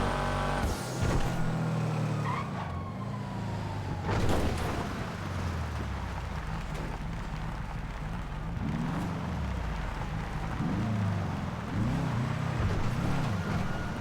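A car races at high speed in GTA while fleeing police, its engine roaring loud and close with rising and falling revs and brief impacts, no talk over it.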